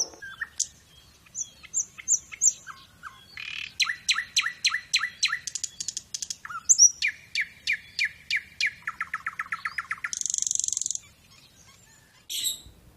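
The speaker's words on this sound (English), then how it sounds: "sparrow" A small songbird, given as a sparrow, chirps clearly in rapid repeated bursts of bright, sharp notes, building into fast trills and a buzzy phrase, close and isolated against silence.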